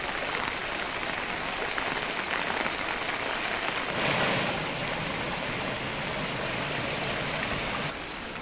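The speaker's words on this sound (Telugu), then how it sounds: "మోంతా తుఫాన్ ధాటికి ఏపీలో అన్ని జిల్లాల్లో వర్షం కురుస్తోంది." Heavy rain driven by Cyclone Montha falling across Andhra Pradesh, a steady, dense broadband wash that swells slightly midway and stays constant throughout, with no voices.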